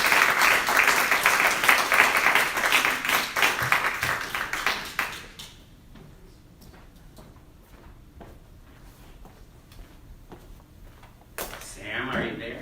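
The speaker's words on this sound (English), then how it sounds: "Let's give a warm round of applause for Sam Moe." Applause for poet Sam Moe at a poetry festival, steady clapping over the first five seconds that drops away to quiet room noise with scattered taps and a brief voice near the end.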